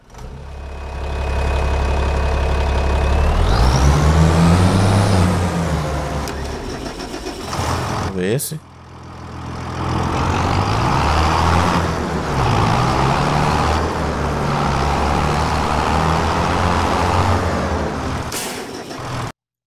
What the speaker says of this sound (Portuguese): o som desse, desse trator aqui ficou legal